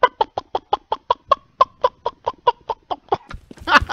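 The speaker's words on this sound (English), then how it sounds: "first time I saw chicken in that pool fountain" A chicken in Counter-Strike on the Inferno map, near a pool fountain, clucks in a fast, even series of about fifteen sharp, close clucks, ending in a louder burst of noisier sound.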